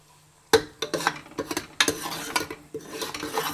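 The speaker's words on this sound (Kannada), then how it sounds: "ಈಗ ಮಸಾಲ ಹಾಕಿದಾದ್ಮೇಲೆ ಒಂದ್ಸರಿ ಚೆನ್ನಾಗಿ ಈ ರೀತಿಯಾಗಿ ಮಿಕ್ಸ್ ಮಾಡ್ಕೊಳ್ಳಿ" Freshly ground masala paste is stirred into hot oil in a pan. A spoon clinks and scrapes in quick, irregular strokes over a light sizzle, heard up close with no talking.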